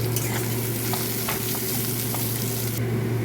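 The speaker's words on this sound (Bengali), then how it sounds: "যে ছোট চিংড়িটা এনেছিলাম সেটা একটু ভাজা ভাজা করব, ওই পেঁয়াজ আর কাঁচা লঙ্কা দিয়ে।" Small shrimp frying with onion and green chili in a pan, a loud, dense and continuous sizzle with occasional faint stirring taps, no voices.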